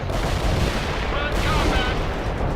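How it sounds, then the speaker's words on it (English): Mortar fire in the video game World in Conflict, heavy booming blasts blurring into a continuous loud, rumbling barrage during combat, with voices faintly under the noise. "Firing mortars."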